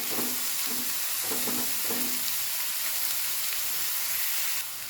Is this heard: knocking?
no